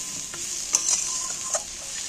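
Onion, capsicum, tomato and fish roe are stirred in a pan, a soft, steady sizzling hiss with a few light scrapes of the spatula, with no voices.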